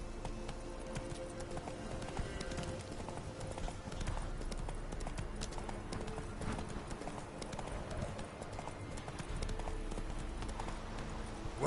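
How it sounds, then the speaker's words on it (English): A horse gallops in The Witcher video game, a continuous rapid clip-clop of hooves over game ambience, steady and fairly quiet throughout. "Whoa there, Roach."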